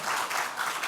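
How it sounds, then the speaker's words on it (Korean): Audience applause for a pastor at the close of a pastoral panel discussion at a Reformed church conference, a steady, even wash of clapping heard from a distance for under a second. "우리 수고하신 박 목사님께 박수로."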